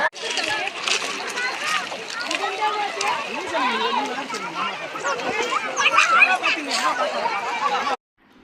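People splashing and playing in river water at Kodumudi, continuous close splashing with excited voices, children's chatter and talk running throughout, cutting off abruptly near the end.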